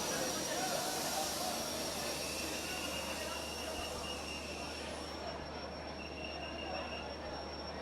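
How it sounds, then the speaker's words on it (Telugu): A train pulls out of Cherlapalli station: a steady, close rumble of rolling railcars with high, drawn-out wheel squeal running throughout, loud and continuous. "ప్రస్తుతం చెర్లపల్లి స్టేషన్ నుంచి వెళ్ళి ట్రైన్ బయలుదేరుతూ ఉంది"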